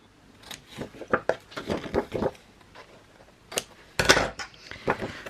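Scissors snip diagonally across the corners of a paper flap for a Christmas scrapbook album, a run of short crisp cuts and rustles close by, with a louder crunchy burst near the end.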